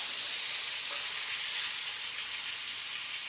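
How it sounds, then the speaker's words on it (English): Chicken liver hamburger steak patties sizzle steadily in a hot frying pan, a close, continuous hiss of frying fat with a faint soft bump as one is turned. "I'm going to try to turn these over without breaking them apart"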